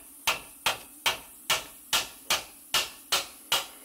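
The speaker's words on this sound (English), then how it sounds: "put the wrench onto the bolt and then hit it with a rubber hammer any way you can to break" A rubber hammer strikes a wrench fitted on a brake caliper bolt of a Honda Odyssey, nine sharp, evenly spaced metallic blows in quick rhythm, each with a short ringing decay.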